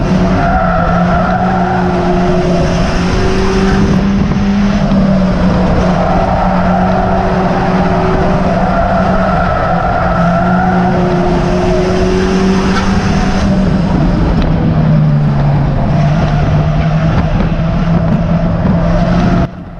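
Stock cars race around the Cowdenbeath Racewall track, engines roaring loud and continuous with pitch swells and dips as they jostle through corners, a dense unbroken wall of motor noise.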